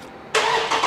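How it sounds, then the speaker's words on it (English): A 2023 Dodge Charger Scat Pack with the 392 engine starts by remote: after a brief quiet, the engine fires abruptly and settles into a loud, steady idle. "Car starts."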